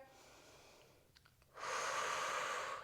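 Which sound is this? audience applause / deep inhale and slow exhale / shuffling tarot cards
deep inhale and slow exhale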